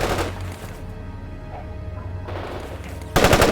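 Gunfire from the war game World in Conflict: a loud burst of shots opens, the middle holds lower battle rumble, and a dense, loud rapid volley closes it out, with no voices heard.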